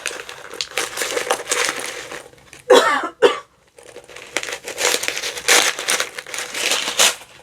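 Paper is pulled out of a small knitting notions pouch, heard as close, continuous crinkling and rustling with a couple of sharper crunches near the middle and no talking.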